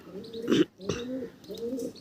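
Madras pigeons in a loft give soft, low cooing calls, a few rolling coos in close succession, near and fairly clear with no talk over them.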